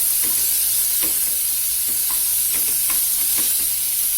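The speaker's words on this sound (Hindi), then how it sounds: "अब इसे अच्छी तरीके से हमें हाफ फ्राइड करके जो है वो पकाना है" Chopped onions sizzle and hiss steadily in a pan for an aloo palak dish, with a few soft stirring scrapes breaking through the close, continuous frying noise.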